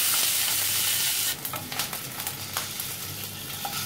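Duck eggs frying in hot oil, a steady broadband sizzle that swells louder partway through with crackling pops and spits, close and continuous, no voices.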